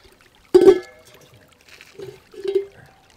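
Water rinsing mud off a wild desert hyacinth bulb outdoors: one sharp close splash, then two softer, briefer splashes in otherwise quiet surroundings.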